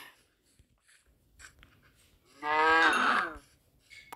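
A Minecraft cow gives a single short, clear moo in the game amid quiet ambient clicks and faint footstep sounds.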